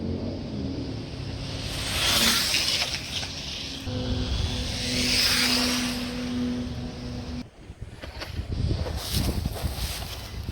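A Wltoys 4x4 RC car on a 3S battery makes speed runs, its electric motor whining loud and close in two rising passes before a sharp cut and rougher rumble.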